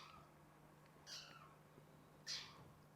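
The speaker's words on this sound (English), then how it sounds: "Now my cat is making noise back there, so don't mind him." An Asian leopard cat gives two short, high meows about a second apart, slightly distant, over a steady low room hum.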